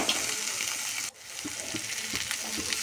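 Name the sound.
green chillies frying with fish masala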